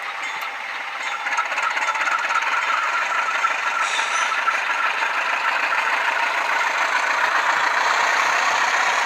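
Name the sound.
Intermountain U18B model locomotive sound decoder engine throttling up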